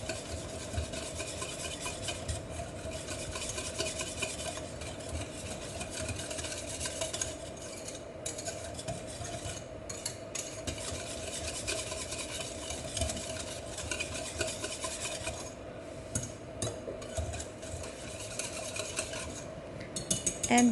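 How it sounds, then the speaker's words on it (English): A whisk scraping and stirring heavy cream into melted toffee sauce in a pot, a steady close rubbing and scratching that continues with no one speaking. "we add in our heavy cream. And we whisk this until all of the cream has completely"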